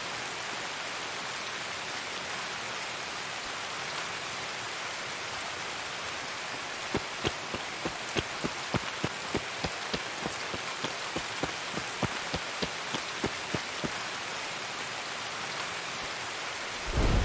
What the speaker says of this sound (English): Raining so hard you can't see shit outside.